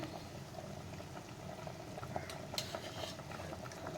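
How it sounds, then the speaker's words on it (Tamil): Water boils in a pot for vegetable biryani, a low steady bubbling hiss with faint pops and a few light metallic clinks, quiet and close. "தண்ணி கொதிக்குது."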